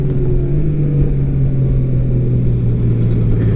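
A 2018 Honda Goldwing motorcycle engine holds third gear in a steady, loud low drone with a constant pitch and strong rumble, heard alone without speech.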